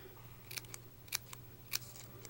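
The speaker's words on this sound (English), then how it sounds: "So I'm just going to cut little slits in." Scissors make three crisp, close snips in paper as small slits are cut around a fold for a cake card, the cuts evenly spaced over a quiet background.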